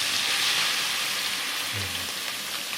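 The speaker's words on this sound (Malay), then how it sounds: "Kita goreng bilis." Small anchovies sizzle steadily in hot oil, a constant loud crackling hiss with no voices.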